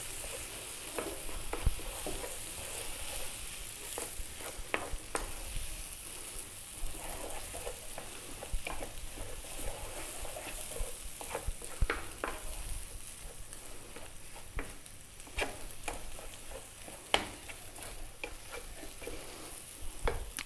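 Egg mixture with cilantro sizzles in a hot frying pan while being briskly stirred for a sandwich filling, a steady hiss of frying with scraping stir strokes throughout, no voices.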